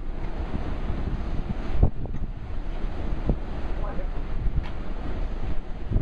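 Steady wind buffeting the microphone on a cruise ship balcony, a constant low roar with occasional gusts and faint surf-like rushing, no talking.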